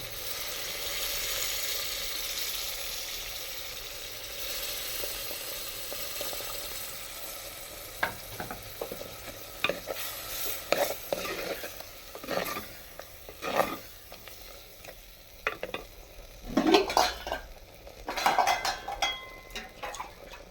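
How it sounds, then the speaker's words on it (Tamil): Vegetables sautéing in a pan with a soft continuous sizzle, broken by a series of sharp scraping and clanking stirs of a utensil against the pan in the latter half. "இது கொஞ்சம் வதங்கட்டும்."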